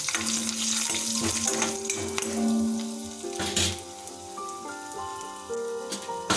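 Dry red chilies and whole garam masala being stirred in hot oil in a kadai, a steady crackling sizzle with scraping stir strokes, close and alone without voices.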